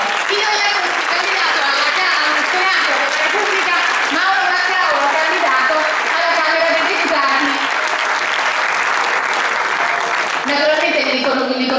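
A theatre audience at an election campaign event in Nocera Inferiore applauds steadily and loudly for about twelve seconds, with a dense wash of clapping and a few voices mixed in.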